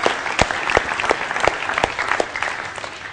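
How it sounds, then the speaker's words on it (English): A seated audience at a weekend seminar breaks into full, dense applause lasting a few seconds, many hands clapping together at steady volume with a few sharper claps standing out. "Give yourselves a round of applause because it's hardcore."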